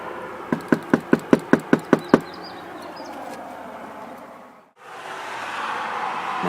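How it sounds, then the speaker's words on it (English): Knuckles rapping on a door in a quick series of about eight sharp, evenly spaced knocks, followed by a few seconds of quiet room tone and then a louder steady background hum. "Gotta knock again."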